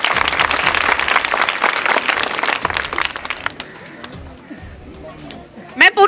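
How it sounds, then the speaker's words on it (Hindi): A crowd at a public gathering breaks into loud, dense clapping that lasts about three seconds and then fades to scattered claps, with some voices and a brief burst of noise at the end. "जोर से जरा तालियां बजाइए उनके लिए।"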